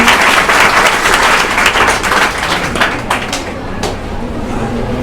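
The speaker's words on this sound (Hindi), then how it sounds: "बहुत अच्छे, ताली बजाओ अपने लिए" Students in a school classroom clap for themselves, a dense, loud patter of hands that holds steady, then thins into scattered claps near the end.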